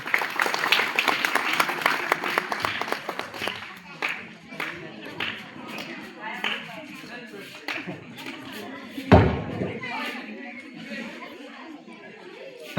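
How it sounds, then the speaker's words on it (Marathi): Applause from a school audience for a young girl's recitation, loud at first and thinning into scattered claps as chatter rises, with a few voices talking under it. "सर्वांनी जोरदार टाळ्या वाजवायच्या."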